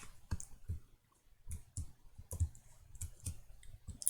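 Mouse clicks from control-clicking in FreeCAD CAD software: about a dozen sharp, close, dry clicks at an uneven pace, some in quick pairs, with a quiet background between them and no voices.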